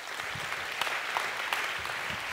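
Audience applause at a talk on workplace skills, dense and continuous clapping from a crowd that holds steady throughout.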